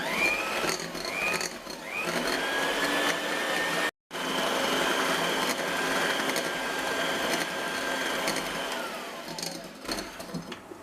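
Electric hand mixer running steadily while beating cake batter with added milk and oil for a marble cake, a continuous loud motor whir with shifting pitch and a brief cut near the middle.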